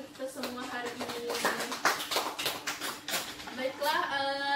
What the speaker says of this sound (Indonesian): kita beri tepuk tangan dulu untuk kita semua hari ini.